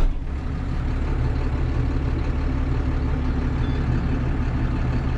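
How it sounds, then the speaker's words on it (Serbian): A 2000 John Deere 7810 tractor engine running, heard from inside the cab as a steady, loud low-pitched drone and rumble that holds constant throughout, no talking. "zvuk koji emituje njihov motor, i sada ću vam pokazati kako to izgleda, kako se to čuje u samoj kabini"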